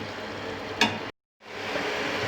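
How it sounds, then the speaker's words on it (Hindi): Chicken for charsi karahi frying over high heat, giving a steady close sizzle with a brief stirring scrape, a short sudden dropout, then the sizzle resumes. "ये आप देख सकते हैं कि चिकन फ्राई होना शुरू हो गया।"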